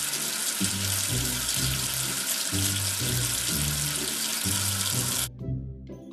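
Running water washes soap off a letter in a children's video game, a steady close splashing stream that cuts off abruptly near the end, under a looping musical tone.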